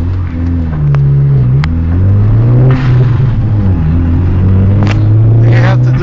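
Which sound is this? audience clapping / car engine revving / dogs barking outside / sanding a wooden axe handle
car engine revving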